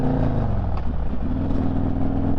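A motorcycle cruises at 70 mph along a winter highway in New Jersey, a loud steady engine drone mixed with heavy wind rush, continuous and close, with no talking.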